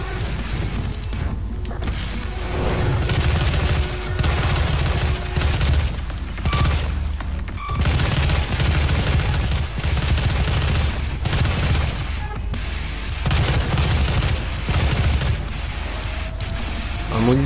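Rapid, dense gunfire from the video game Doom, with bursts and heavy booms running almost continuously and loudly throughout, with only brief dips between volleys.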